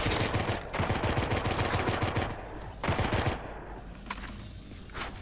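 Rapid bursts of automatic gunfire in the video game Drawn to Death's shooting gallery, loud and close, in several clustered volleys separated by short pauses.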